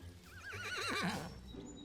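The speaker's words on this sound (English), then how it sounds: "The horse threw back his head and neighed." A horse in a cartoon telling of the Gingerbread Man fairy tale gives one quavering whinny, rising and wavering before it trails off, clear and alone for under two seconds.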